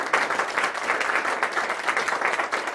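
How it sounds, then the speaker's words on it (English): Sustained applause from a lecture audience with dense, steady clapping at close range, filling the whole moment without speech. "oh, you can applaud."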